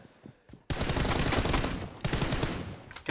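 Rapid bursts of automatic gunfire from a team deathmatch video game, loud and dense, starting abruptly after a brief quieter lead-in and continuing in sustained volleys with a short break near the end.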